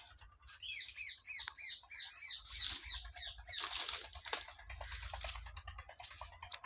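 Busy chirps of pigeons feeding on wheat repeat rapidly, broken by several loud bursts of wing flapping nearby, with no talking.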